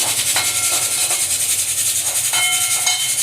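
Chopped onions sizzle in hot oil with mustard seeds and cumin, a loud, steady frying hiss with faint crackles throughout, close by.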